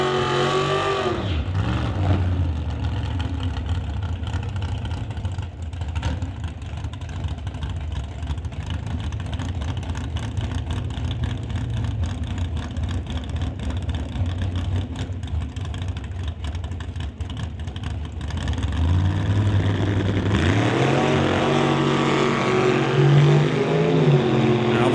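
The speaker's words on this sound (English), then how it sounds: "427 to a 406 cubic inch engines going up against one another here" Drag race cars with 427 and 406 cubic inch engines roar in a sustained loud engine blare from the strip at an NHRA Summit ET event, swelling and deepening toward the end.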